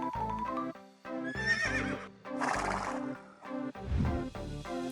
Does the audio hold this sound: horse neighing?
yes